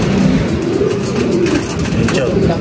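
Pigeons coo steadily at a net trap, a continuous low, burbling chorus close by that runs through the whole stretch, with voices faintly in the background.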